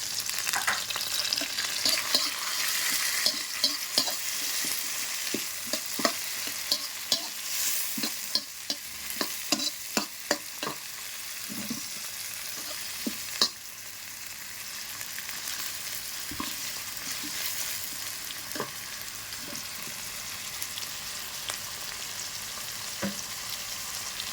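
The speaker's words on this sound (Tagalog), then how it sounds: "Then, mix natin ang kamatis" Tomatoes fry with a constant close sizzle in a pan for sinampalokang manok, while a utensil stirs and clacks against the pan in frequent sharp strikes, busier at first and then easing off.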